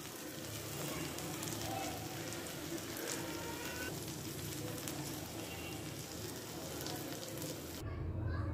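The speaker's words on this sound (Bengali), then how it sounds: "আবারও কিছুটা সময় ভাজি করে নিব।" Garlic and flat beans frying in a pan give a steady, close sizzle with a crackly, rain-like hiss that holds throughout and ends abruptly.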